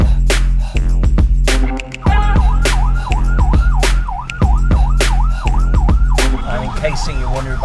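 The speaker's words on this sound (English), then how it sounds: "In case you're wondering about the noise of the blues and twos, we're actually in a police vehicle." Police vehicle siren blaring from inside the car in Bangladesh, a loud wailing tone that rises and falls repeatedly, cut by sharp bursts of horn and background rumble.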